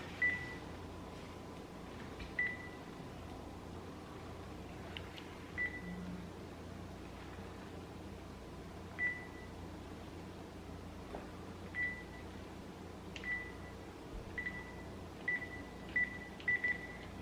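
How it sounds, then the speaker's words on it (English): Telephone keypad tones beep one at a time at irregular intervals over a quiet indoor room hum, each tone short and fairly faint. "You just dial it, Han."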